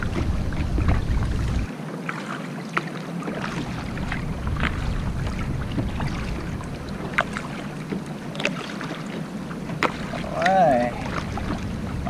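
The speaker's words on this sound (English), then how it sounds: "it's a little windy" Wind rushes steadily across the water while someone sits in a Crescent LiteTackle kayak, a constant buffeting roar on the microphone with a few small knocks and splashes.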